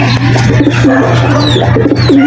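Several pigeons cooing loudly and close by in a loft, overlapping soft rhythmic coos with a few faint chirps and a steady low hum beneath.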